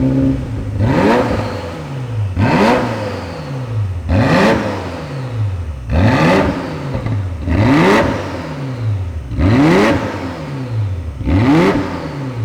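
A Ferrari F40 engine revved repeatedly in neutral, seven loud blips in a regular rhythm roughly every second and a half, each rising and falling back to idle, close and clear with no talking.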